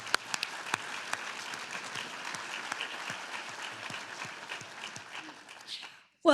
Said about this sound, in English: let's give Judge Gaughan a round of applause